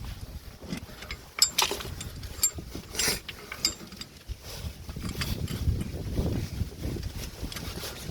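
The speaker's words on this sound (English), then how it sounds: "Pushing the caliper without using winding tools." A Skoda Fabia front brake caliper piston being pushed back by hand without a winding tool: irregular metallic clicks, scrapes and creaks up close, with a low grinding strain building toward the end, no talk.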